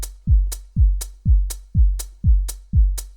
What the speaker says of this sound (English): I created this just a kick and bass groove with the standard 909 core kit and just a 909 hi-hat.